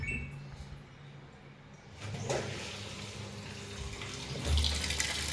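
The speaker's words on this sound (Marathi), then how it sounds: "हे बघा व्यवस्थितपणे पाणी चालू झाले आहे." Tap water running into a washing machine that had not been filling, a soft continuous rush at a distance that swells to a stronger gush near the end, with no talking.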